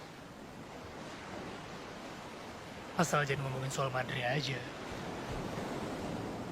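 Ocean waves at a beach wash steadily in the background, a soft continuous surf under a short stretch of conversation between two people.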